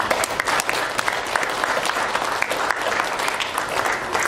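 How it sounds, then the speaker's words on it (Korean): A church congregation bursts into loud, sustained clapping after hymns during a Sunday service, dense and close with individual claps standing out rhythmically throughout. "하나님 앞에 영광의 박수 한번"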